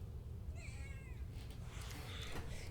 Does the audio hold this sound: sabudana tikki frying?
no